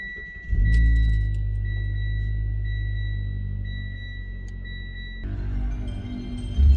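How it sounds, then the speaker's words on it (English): A car engine turns over and settles into a low, steady idle rumble, with a high electronic tone sounding above it before the engine note shifts. "So let's start up the car."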